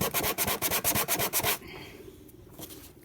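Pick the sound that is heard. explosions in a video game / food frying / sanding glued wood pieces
sanding glued wood pieces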